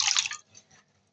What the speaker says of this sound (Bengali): এখানে আমি শাকটা ভালোভাবে ধুয়ে নিচ্ছি